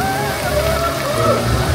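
A group of people patting their knees to imitate rain, giving a dense, steady patter like rainfall on a surface, close and fairly loud throughout.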